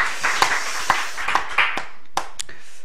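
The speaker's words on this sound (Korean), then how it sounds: "우리 한 박수 한 번 더 하죠" A church congregation at a Christmas service claps together in a quick, uneven burst of sharp claps that fade after a few seconds.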